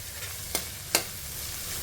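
Mint and coriander fry in a pan with a low, steady sizzle, and two sharp stirring scrapes come in quick succession up close.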